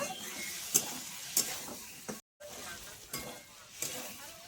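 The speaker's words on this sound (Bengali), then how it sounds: "দিয়ে একসঙ্গে মশলাটা ভালো করে একটু কষিয়ে নেব।" Cumin powder, chili powder and sugar sautéed together in a pan, a quiet sizzle broken by a few sharp stirring knocks and one brief gap.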